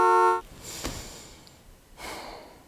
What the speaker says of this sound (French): Ah non! Ça suffit le klaxon!